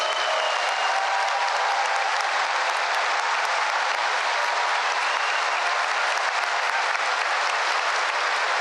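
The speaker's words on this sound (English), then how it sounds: "Let's give them a round of applause for those students." Sustained applause from a large crowd at a university graduation ceremony, steady and even throughout with no break, a dense wash of clapping from many hands.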